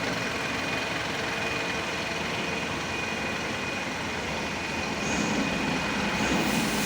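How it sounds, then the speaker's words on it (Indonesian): A Mitsubishi Canter Euro 4 diesel truck engine runs loud and close, a dense steady clatter that rises slightly in the final seconds as the throttle is opened, with no talking. "Coba kita lakukan gas untuk mobil ini"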